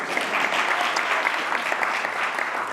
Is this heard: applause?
yes